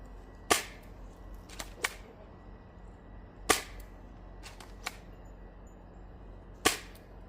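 Single gunshots fired at steel and soft targets on an outdoor shooting range, sharp isolated cracks spaced a second or more apart, some followed by a fainter ring, over a low steady background hum.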